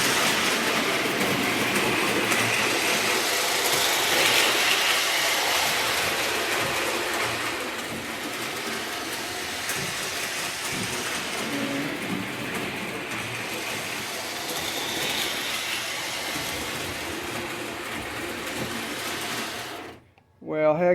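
A model Polar Express train runs steadily along its track, a continuous close rattling and whirring clatter that fades slightly midway and cuts off abruptly near the end.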